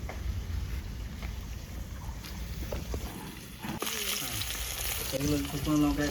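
Vegetable fritters frying in hot oil in a pan, a steady soft sizzle throughout with occasional stirring clinks and scrapes, growing louder and brighter near the end.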